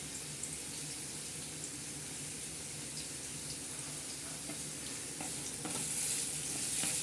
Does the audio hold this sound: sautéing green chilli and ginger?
yes